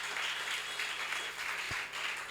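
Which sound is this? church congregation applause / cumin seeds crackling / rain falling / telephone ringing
church congregation applause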